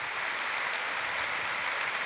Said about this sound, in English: applause rang out for one of their own